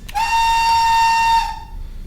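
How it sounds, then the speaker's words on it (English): A model locomotive sounds a single British Rail single-chime whistle, one sustained, loud tone for over a second, then cuts off and fades into quiet. "there are a couple of UK whistles, and one of them is the British Rail single chime, which this locomotive uses"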